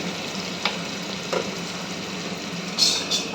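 Onion and garlic frying in a pressure cooker, giving a steady close hiss of oil with a few light clinks and scrapes of stirring over it.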